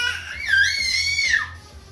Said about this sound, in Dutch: dat hij zo gilt en schreeuwt